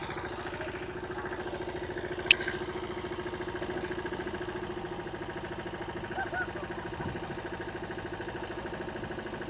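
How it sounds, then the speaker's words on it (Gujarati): A tractor engine runs steadily in a peanut field, a continuous moderate idling hum with a fine rhythmic pulse and a sharp click early on. "તો પપ્પા જાય ટ્રેક્ટર લઈને"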